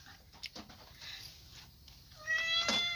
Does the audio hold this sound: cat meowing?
yes